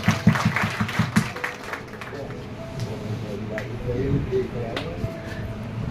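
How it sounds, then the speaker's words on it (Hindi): Audience at a retirement ceremony for a teacher claps in a short burst of applause at the start, then fades under a crowded hall murmur with voices talking. "ताली बजा दो भाई।"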